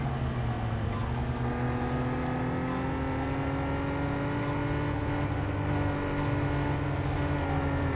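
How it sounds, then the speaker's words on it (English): A car driving steadily at about 70 miles an hour in the PS1 racing game Vanishing Point, its engine a constant, even drone with a slowly rising pitch and no breaks, holding at a moderate level throughout. "Just driving around at about 70 miles an hour because Gordon knows that this car can't do much better."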